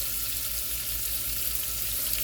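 Ginger shrimp frying in a pan, a steady close crackling sizzle with a broad hiss that holds evenly throughout, no talking.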